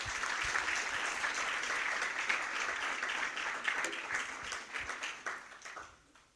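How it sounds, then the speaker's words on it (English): An audience at a university summit breaks into a round of loud applause, dense sustained clapping that carries evenly for several seconds before thinning out into scattered claps at the end. "can I get a round of loud applause?"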